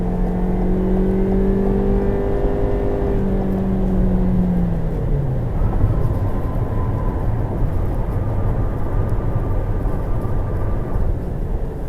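A 2022 Toyota Corolla Cross LE accelerates to pass on an open road. Heard from inside the cabin, a steady, loud engine drone rises in pitch over dense road and wind roar, and no one speaks.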